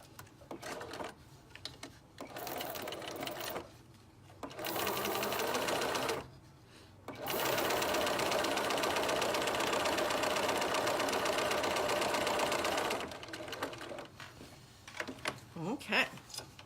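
A sewing machine stitches a quilted house block, running in several bursts of steady rapid whirring separated by pauses, close and clear, with a person speaking quietly between runs.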